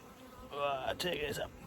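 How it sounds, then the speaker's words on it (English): Buzzing of Welsh Black honey bees flying close by around a hive feeder in an apiary, a dense whirring drone that swells and wavers with a few louder passes, no voices. "There's just too many bees in that feeder section."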